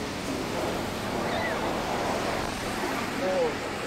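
Sea waves roaring on a shore, a continuous broad rumbling wash mixed with wind buffeting the microphone, steady and fairly loud throughout, with a faint brief whistle-like tone near the end.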